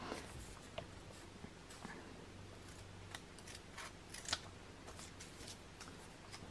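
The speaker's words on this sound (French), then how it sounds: "on va découper tout simplement la ligne de taille" Scissors snip through a paper sewing pattern along the waistline, a steady run of close, crisp cuts with paper rustling between them and no talking.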